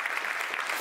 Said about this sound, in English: I think we give them a warm applause.